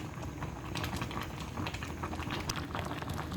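Malunggay vegetable soup bubbling in a pot, a steady soft patter of boiling liquid throughout, fairly quiet and unbroken.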